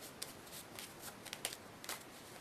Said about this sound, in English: This is what we call a Hindu shuffle.